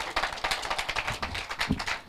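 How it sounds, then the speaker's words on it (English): A live audience claps for a guest at a Jamaican food media launch. The clapping is close and dense, with steady broadband bursts and a brief low thump near the end, and no one speaks. "Can we get another round of applause, please, for Miss Harvey?"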